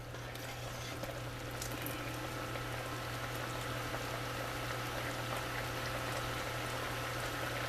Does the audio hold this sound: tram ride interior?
no